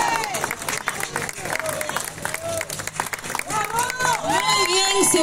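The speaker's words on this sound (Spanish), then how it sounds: "Muy bien, un aplauso para las chicas." A crowd at a live show applauds and cheers for the dancers, with dense clapping and shouts continuing throughout while voices call out over it.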